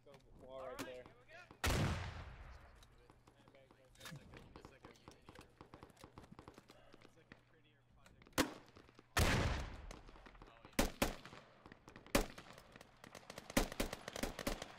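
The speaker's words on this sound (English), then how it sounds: "Shots coming east between 105 and 120." Gunfire from the military shooter game Squad, with several sharp loud shots and cracks scattered across the stretch among quieter distant reports, while players talk over radio-style voice chat.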